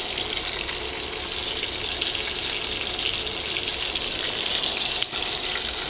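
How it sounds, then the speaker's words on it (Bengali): Fish frying in a pan, Desi style, gives off a steady, dense hiss that runs unbroken for the whole stretch at an even, moderately loud level, with no voices over it. "এই হচ্ছে মাছ ভাজা হচ্ছে"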